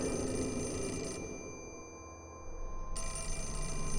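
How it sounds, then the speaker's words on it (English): A telephone rings in the horror video game Fatal Frame: Mask of the Lunar Eclipse, a steady bell tone that drops away briefly before the ringing resumes, moderately loud with no talk. "Well, I'll answer the phone"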